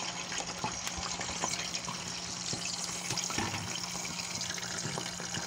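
Aloe vera dropped into very hot grease in a pan while making homemade aloe oil, giving a steady, close frying sizzle and hiss with scattered pops and crackles throughout.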